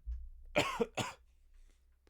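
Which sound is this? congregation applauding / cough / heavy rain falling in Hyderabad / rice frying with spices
cough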